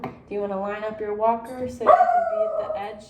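A pet dog barks indoors at home, a short bark rising over a stretch of ongoing conversation in a bathroom.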